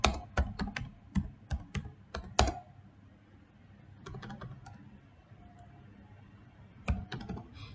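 Fingers type on a computer keyboard in bursts of crisp, close key clicks, a rapid run of strokes, then a pause, then a few more scattered taps, with no talking.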